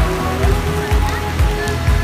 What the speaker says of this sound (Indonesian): saat ini Kota Padang sedang mengalami cuaca ekstrim, yaitu di mana curah hujan yang semakin tinggi dan disertai dengan angin kencang